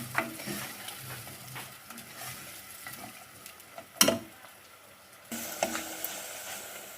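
Chopped onion fries in about half a cup of hot oil in a pan, with a soft steady sizzle, stirring scrapes and a sharp clatter midway, heard up close.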